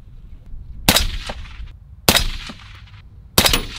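Three sharp rifle shots from a 6.5 fired at targets at a shooting range, spaced about a second apart, each a loud crack with a short ringing tail over quiet low rumble.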